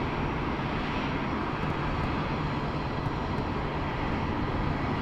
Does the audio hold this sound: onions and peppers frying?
no